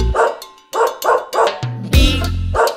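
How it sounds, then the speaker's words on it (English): A cartoon dog barks repeatedly in a children's nursery rhyme, a string of clear, close yaps and bow-wows with a short musical note in between. "There was a farmer had a dog, and Bingo was his name"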